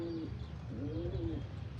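Pigeons coo in a few soft, rolling calls against steady outdoor background noise, close and moderately quiet, with no one talking.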